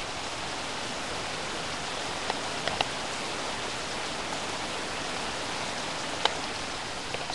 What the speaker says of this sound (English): This is the hardest rain I've seen in over a year, possibly of all time.